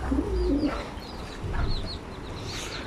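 Tumbler pigeons in a flock coo in low, throaty phrases close by, a few soft calls rising over steady outdoor background noise, with faint higher chirps scattered throughout.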